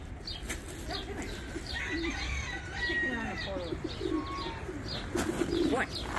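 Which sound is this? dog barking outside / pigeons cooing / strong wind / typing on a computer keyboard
pigeons cooing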